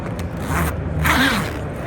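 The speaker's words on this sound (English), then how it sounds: "So these just open and close like that." Heavy number 10 YKK industrial zippers on thick canvas of a Jeep bed cover being pulled open and closed, two quick scraping zips in a row, close and fairly loud with no talking.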